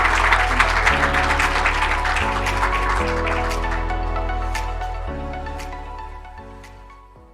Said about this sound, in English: Please, a hand of applause.